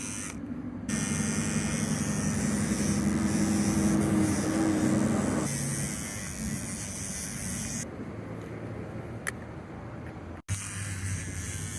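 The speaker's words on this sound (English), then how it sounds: "So I thought it was time to sacrifice this electric toothbrush." An electric toothbrush buzzes steadily as it scrubs front brake caliper parts of a 1994 Suzuki GN125 motorcycle, a close motor hum that falters and resumes over about twelve seconds.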